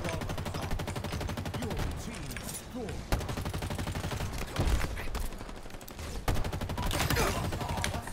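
Rapid automatic gunfire rattles almost without a break in a Halo Infinite multiplayer match. Sharp single shots and bursts stand out over dense game sound, close and loud, with some talk mixed in.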